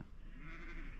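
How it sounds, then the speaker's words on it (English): A brief, wavering sheep bleat at a roadside, somewhat distant and soft over a steady background hum. "There's sheep everywhere."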